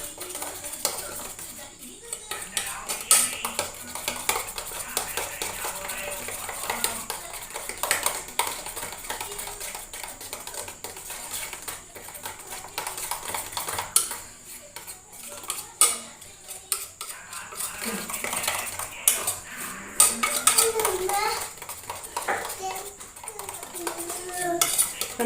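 A spoon stirs a spiced chicken mixture in a bowl, giving quiet, irregular clinks and scrapes against the bowl that continue for a long stretch.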